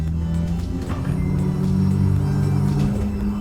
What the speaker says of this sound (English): Okay, I can definitely hear it now. So the pump is working.